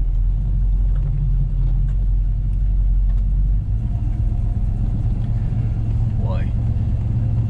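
A 1970 Plymouth 'Cuda 340 muscle car driving, its engine producing a deep steady rumble with a low idle-like drone that shifts as it moves, heard from inside the car with road noise.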